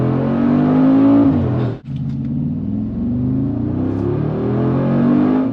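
A 2022 Mercedes G63 AMG at full throttle gives a loud, deep engine roar with rising revs. A sharp break comes as it shifts gear, and then the pitch climbs strongly again. No one talks.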